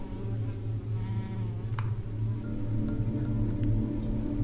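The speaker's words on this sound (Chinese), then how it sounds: "为什么有种苍蝇的声音啊" A fly buzzes in the horror video game Detention (返校), a steady droning hum that runs throughout the scene over low game ambience, at an even level with no break.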